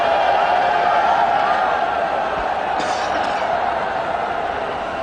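A large crowd roars continuously at a cricket stadium during an India versus Australia T20 match in Mumbai, a loud, dense, far-off wash of cheering that stays steady throughout.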